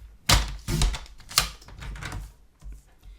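A piece of cardstock is cut down on a paper trimmer, giving a few sharp close clunks and sliding blade scrapes, then quieter taps as the paper settles.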